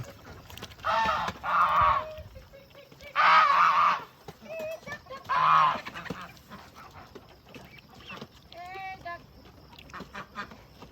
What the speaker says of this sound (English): Geese are having a fit.